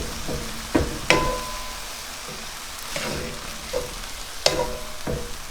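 Food sizzles gently in a pan with sesame oil, a soft continuous fry broken by a few sharp pops, spatters and utensil knocks.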